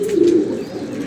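Pigeons coo on a rooftop loft as the birds are let out to fly, a close, low burbling call rising and fading over about a second with no talk.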